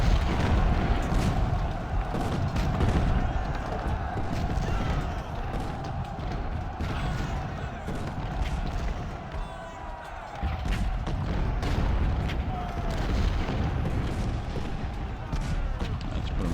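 Artillery cannon fire in the Civil War strategy game Ultimate General: Civil War at Gettysburg, with 24-pounder guns: a continuous rumble of booming cannon shots and distant battle noise, with someone talking over it throughout.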